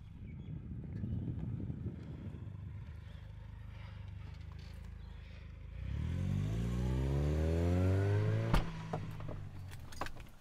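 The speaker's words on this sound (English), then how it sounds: "we're setting off in the C180" A Mercedes-Benz W202 C-Class C180 starts off: a few clinks and shuffles from inside, then the engine rises in pitch through acceleration, heard from within the car with a sharp knock near the end.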